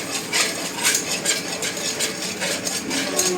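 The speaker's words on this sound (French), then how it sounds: "On remue assez énergiquement." Tomato sauce for beef tongue is stirred energetically in a pot, with continuous scraping and clinking of a utensil against the metal in quick, uneven strokes, close and fairly loud.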